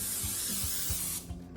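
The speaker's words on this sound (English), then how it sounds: "this is an olive oil non-stick cooking spray" Continuous hissing of olive oil non-stick cooking spray from an aerosol can onto a baking sheet, close and loud, stopping abruptly near the end, with a few faint soft knocks underneath.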